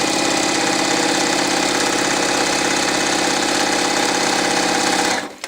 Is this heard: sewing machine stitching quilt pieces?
yes